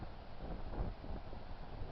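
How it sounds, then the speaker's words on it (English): Steady wind buffeting a microphone outdoors, a continuous low rumble with no voices. "It's windy up here"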